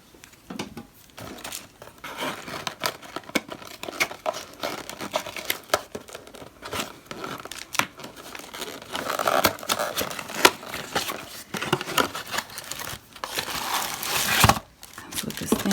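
Crinkling and tearing of plastic packaging with intermittent scissor snips while unboxing a practice hand, irregular rustling bursts close by, mostly without talk.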